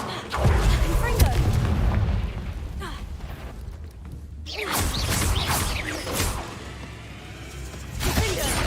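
Confringo fire spell blasts from the Hogwarts Legacy video game, loud booming bursts with whooshing edges that repeat over ongoing game ambience and debris crashes.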